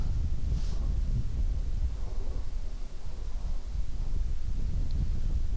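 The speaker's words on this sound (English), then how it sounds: "The wind was ripping pretty bad there, so even these short putts are very demanding" Wind gusts across a disc golf course during a 2017 Save Järva tournament round, a steady low, rumbling buffet on the microphone with no voices.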